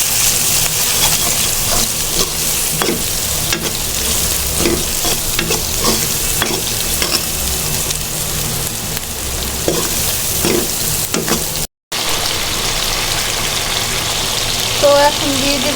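Coriander powder, cumin powder and salt are stirred in oil in a frying pan for bhuna khichuri, with loud, continuous sizzling and repeated scraping strokes close up and a brief cut near the end.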